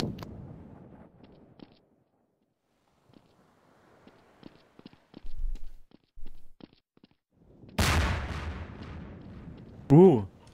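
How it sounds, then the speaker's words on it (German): A loud, broadband blast in the game Trouble in Terrorist Town bursts out late, followed by a brief sharp burst, after scattered quieter footsteps and thuds; players talk around it. "Laute Explosion."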